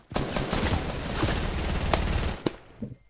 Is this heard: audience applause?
no